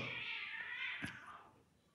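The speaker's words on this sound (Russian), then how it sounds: "коты дерутся" Cats fighting, a drawn-out strained yowl with a sharp hiss or spit near the end, fairly faint and fading out.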